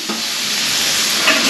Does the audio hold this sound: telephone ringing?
no